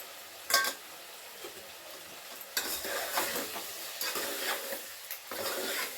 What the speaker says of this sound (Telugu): ఇంకా దోసకాయ ముక్కలు టమాటా ముక్కలు అయితే నూనెలో మంచిగా మగ్గినాయండి.